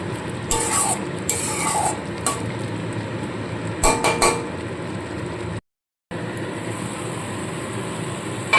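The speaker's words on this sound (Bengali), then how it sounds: "এবার খুব ভালো করে মশলাটাকে কষিয়ে নেব যতক্ষণ না তেল ছাড়তে থাকে" A spatula stirs and scrapes spice masala frying in oil in a pan for a Bengali rohu fish curry with onion flower stalks, with metallic clinks and a soft, steady sizzle close by.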